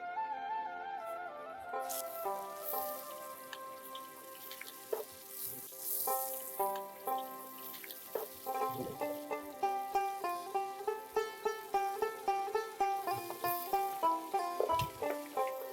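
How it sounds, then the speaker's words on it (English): Marinated prawns, seasoned with turmeric and salt, fry in a generous amount of hot mustard oil, giving a steady sizzle. Background music plays over it, and the frying grows busier with rhythmic bursts toward the end. "I'll be putting in the prawns which was marinated with turmeric and salt"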